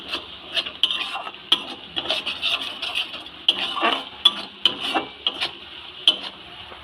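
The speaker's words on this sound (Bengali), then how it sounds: "এবার এই কড়াইয়ের মধ্যে কটা কাঁচা লঙ্কা এভাবে কুচিয়ে রেখেছিলাম, সেই কাঁচা লঙ্কা কুচি দিয়ে দিলাম।" Chopped green chillies stirred in a metal kadai while making spicy aloo katli, with repeated scraping and clinking of the spatula against the pan in an uneven rhythm, close and fairly loud, with no talk.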